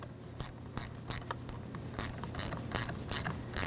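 A ratchet wrench tightens the car battery terminal on a 2011-2020 Dodge Grand Caravan 3.6L, giving a string of short, crisp metallic clicks in uneven bursts, close and clear.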